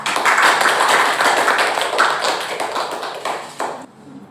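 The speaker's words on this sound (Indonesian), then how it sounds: "Mari tepuk tangan untuk kelompok 3" Group of students clapping in a classroom, a dense burst of applause close by that holds for several seconds and then stops abruptly.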